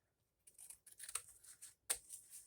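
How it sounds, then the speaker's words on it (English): Scissors snipping paper while trimming a small section of a 6 x 6 paper pad sheet for a handmade envelope; a few short, crisp cuts spaced out, close and fairly quiet, with no talking. "We are going to try to cut it again."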